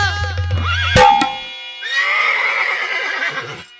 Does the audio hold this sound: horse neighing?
yes